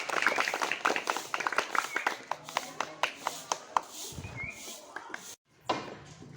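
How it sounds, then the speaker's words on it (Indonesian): Children clap their hands in a group, a quick run of rhythmic, fairly faint claps that trail off, followed by quieter room noise. "Yuk, tepuk tangan untuk kita semuanya."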